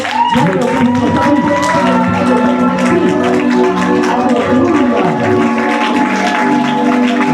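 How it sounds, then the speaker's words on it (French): A church congregation applauds loudly during a worship service, sustained clapping mixed with crowd voices and cheering, with a voice calling out over it throughout. "On va applaudir très fort"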